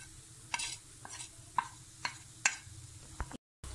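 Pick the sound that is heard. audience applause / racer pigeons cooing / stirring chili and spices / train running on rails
stirring chili and spices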